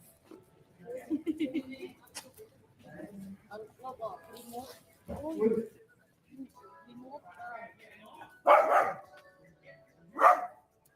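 A few sharp small-dog barks ring out at Big Buddha Temple in Pattaya, Thailand, two loud bursts near the end, with people talking throughout and between them.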